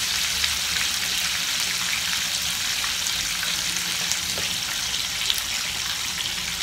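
Tofu fries in a pan with a dense, steady sizzle and crackle of hot oil, close and continuous from start to finish, with a few small pops and no voices.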